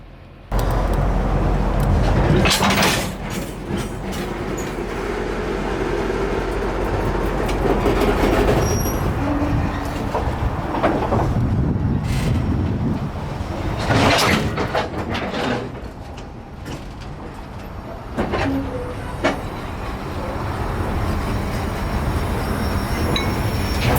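A train rolls slowly through a rail yard where the switches are thrown by hand, its wheels squealing and cars clanking in a loud, steady rumble that carries on for the whole stretch.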